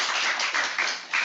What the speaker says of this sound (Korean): 박수 한번 치실까요?